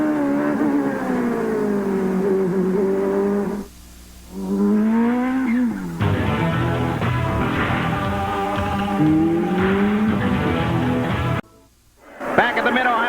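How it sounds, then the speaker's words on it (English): IndyCar race cars lap the Mid-Ohio Sports Car Course in 1990, their engines rising and falling in pitch as they accelerate and pass. A commentator talks over the continuous engine roar, with brief dips in the noise. "Michael Andretti challenges his father at the end of the long straight"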